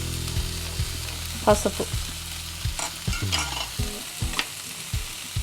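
Tamarind and other chutney ingredients fry in a pan with a soft, steady sizzle broken by intermittent stirring scrapes and clinks, fairly quiet and close.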